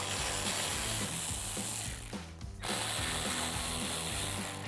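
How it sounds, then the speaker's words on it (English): A ratchet with a 7mm socket backs out bolts during a fog light install on a 2018-2023 Mustang GT, giving a steady, fast, close clicking that pauses briefly midway and then carries on, with no voices. "Now we'll take out the 2 front ones, again with our 7mm socket."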